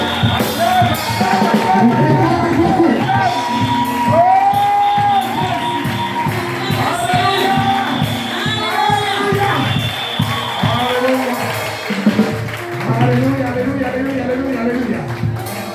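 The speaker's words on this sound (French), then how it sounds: "Et quand je vais citer ce nom, je veux que vous acclamez avec joie." A church congregation at a Pentecostal unification seminar cheers and acclaims a name: a dense, sustained roar of many voices shouting together, loud and close throughout, with individual calls rising out of the crowd.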